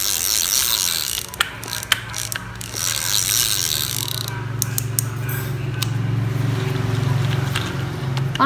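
A used Japanese size 4000 spinning fishing reel whirs smoothly as its handle is turned, a steady mechanical hum with occasional light clicks and ratchet ticks close by.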